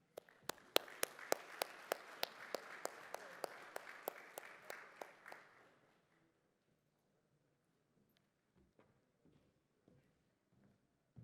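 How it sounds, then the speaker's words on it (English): At an investment forum, a small audience claps in sharp, distinct strikes for about six seconds, then the clapping stops, leaving near silence with a few faint scattered knocks. "Let's give them another round of applause"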